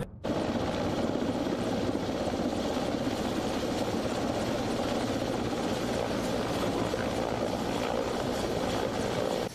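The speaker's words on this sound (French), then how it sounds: "Un hélicoptère vient de se poser au cœur d'une forêt à une cinquantaine de kilomètres de Bamako." A military helicopter of the Malian armed forces sets down in a forest about fifty kilometres from Bamako, its rotor and engine a loud, steady roar throughout.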